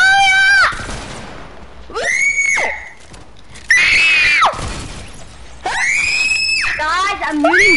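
A kid letting out several loud, piercing, high screams in separate bursts, near and harsh, with brief gaps between them during an online gaming session.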